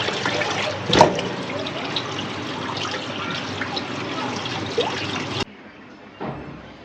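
Running water splashes steadily as beef trotters for nehari are rinsed under a tap, close and fairly loud with a brief clatter near the start, then the flow cuts to a quieter trickle near the end.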